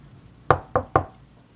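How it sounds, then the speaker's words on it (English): Three sharp knocks on wood in quick succession, close and distinct against a quiet background. "3 knocks for safety."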